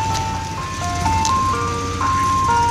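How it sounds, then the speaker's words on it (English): Ice cream truck jingle ringing out from an old Chevy van playing Turkey in the Straw, a steady electronic chime melody over the low rumble of the idling vehicle, close and fairly loud with no talking. "I can't believe we have two ice cream trucks."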